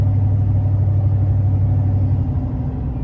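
A 2004 Chevrolet Silverado truck with a 6.0 engine and 4.56 gears cruises along, its steady low engine drone and road rumble loud and close, no voices.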